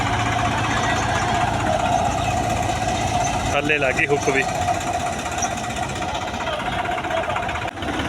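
A tractor with a machine attached runs in a muddy field, its engine holding a steady, close, rough drone with a few knocking bursts while people talk over it.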